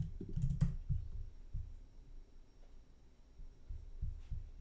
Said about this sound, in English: Let's just type this text in.